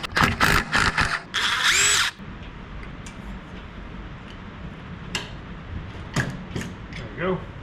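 A power tool zips loose the engine head bolts on a worn tracked dumper in a couple of loud, close bursts, followed by quieter workshop clatter and faint handling noises.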